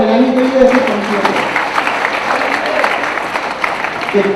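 A crowd applauding at a Hindi poetry recital in Indore: dense, sustained clapping fills the hall at close range while a voice carries on over it.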